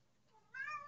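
A cat gives a single short meow, close and fairly quiet, rising out of near silence in the second half of the moment.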